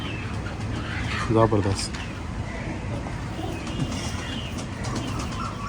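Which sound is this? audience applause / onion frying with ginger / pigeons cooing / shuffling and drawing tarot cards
pigeons cooing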